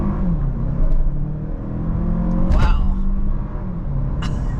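A 2023 Toyota Crown hybrid sedan with standard all-wheel drive accelerates hard, its engine droning and rising in pitch under a loud, close cabin rumble, with a brief thump along the way.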